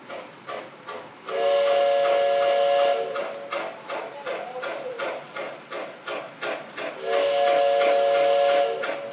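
An O gauge model passenger train sounds two long steam-whistle blasts for departure, between them rhythmic chuffing and hissing, loud and close on an indoor layout.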